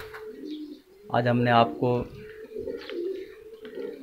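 Racing pigeons of a Mianwali fancier's flock cooing in a loud close burst, with softer coos and chirps around it while someone talks over them.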